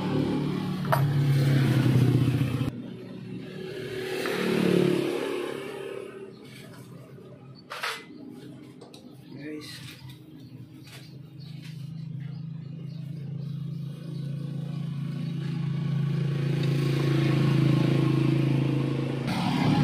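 A Kawasaki Barako 175 motorcycle engine idles steadily after a timing and valve adjustment, a close, continuous low hum with louder stretches at the start and end and a brief dip in the middle.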